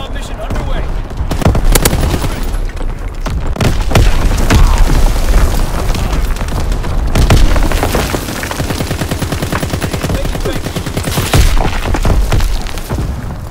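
Heavy explosions from a bombing run in Call of Duty boom and crack amid rattling machine-gun bursts, loud and close, in a chaotic multiplayer firefight on the Shipment map.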